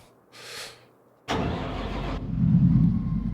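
A Case 7160 Axial-Flow combine's engine starts: a short whir, then an abrupt loud crank catches into a powerful, steady roar that deepens and grows heavier after a second.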